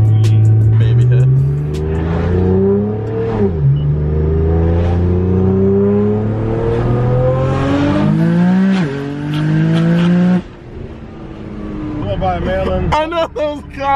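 A Nissan GT-R pulls hard on low boost, its engine note climbing through several gear shifts, loud and close from inside the car, with people talking briefly near the end.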